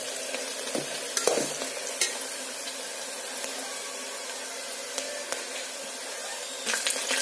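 Chopped onions frying and browning in oil in a pan, with a steady sizzle throughout, broken by occasional scrapes and clinks of a stirring spoon, close up and with no talking.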